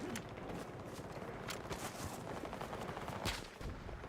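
Gunfire rattles in Battlefield 6 battle royale play, with dense overlapping shots and bursts at close range, loud and continuous throughout.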